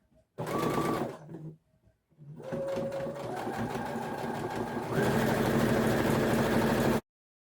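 A sewing machine stitches along the top of a tote bag strap in a short first run, then a longer continuous run that speeds up near the end, motor humming close by.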